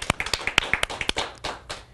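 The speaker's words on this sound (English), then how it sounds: "Another huge round of applause for Hemant." A few people clapping for a guest on a TV talk show, in quick, uneven claps, close and fairly sparse, lasting under two seconds.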